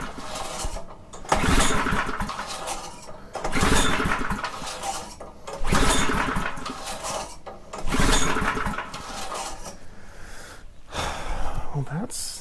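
A front tine rototiller's small engine is repeatedly cranked in a series of loud bursts every couple of seconds, sputtering briefly each time without settling into a steady run.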